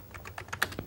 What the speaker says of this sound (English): I could start just typing some text